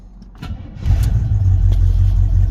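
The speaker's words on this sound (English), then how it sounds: "It actually fires up pretty good." An old Chevrolet square-body pickup truck engine cranks briefly and catches, then settles into a steady, loud, rumbling idle with a slight unevenness.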